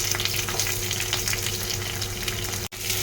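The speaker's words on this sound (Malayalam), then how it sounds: "കറിവേപ്പില ഇട്ട് കൊടുത്തതിന് ശേഷം നമ്മൾ അതിലേക്ക് പിന്നെ ഇട്ട് കൊടുക്കുന്നത് സബോളയാണ് നമുക്ക് സബോള ചേർത്ത് കൊടുക്കാം" Sliced onions hitting a pan of hot oil with curry leaves for a cauliflower masala curry give a close, dense, bubbling sizzle that runs continuously with one brief dropout near the end.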